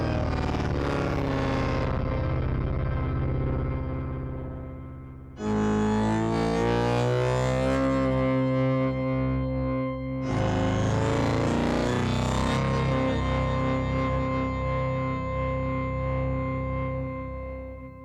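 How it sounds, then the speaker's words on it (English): Crunchy, distorted synth patch playing long, sustained chords with gritty harmonics, in three loud swells separated by brief breaks, with no voices. "The distortion really adds something nice to the sound."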